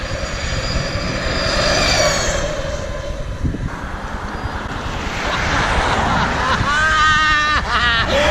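A Harley-Davidson 2020 LiveWire electric motorcycle being ridden on the road, with steady rushing wind noise throughout and a high electric motor whine rising in pitch near the end.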